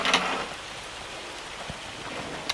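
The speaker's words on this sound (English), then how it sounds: "It's August and we've got hail." Hail patters down in the farming video game Farming Simulator 25, a soft, continuous spray of small impacts with a few sharper hits, steady and moderately quiet.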